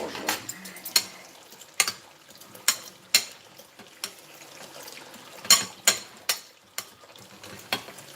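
A spoon stirs buttery food in a pan, making a series of irregular clinks and scrapes against the metal over a faint, quiet background, with no talking.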